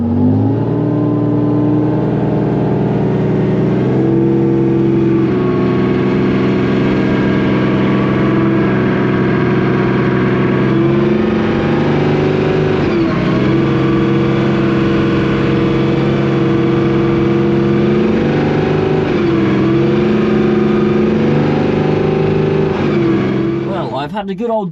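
The engine of an abandoned tank runs loud and close, rising and falling in pitch as the throttle is worked up and down, a continuous heavy mechanical drone.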